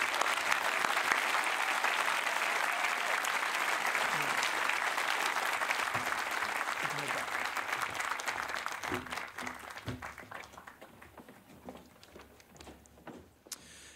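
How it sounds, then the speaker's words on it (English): Sustained applause from a large graduation ceremony crowd honoring special award winners, dense and steady clapping that gradually thins and fades toward the end. "Can we please give one last round of applause to our special award winners?"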